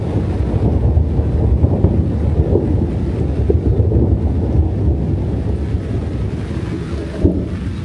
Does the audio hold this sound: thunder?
yes